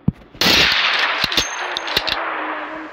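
An AWM sniper rifle fires a headshot in Free Fire: one sharp shot opens, followed by a loud sustained burst and several metallic clangs and dings that fade out.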